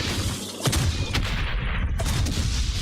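Gunfire in the video game Valiant Hearts, a loud, dense barrage of shots and booms with sharp cracks standing out, continuous and close for the whole stretch.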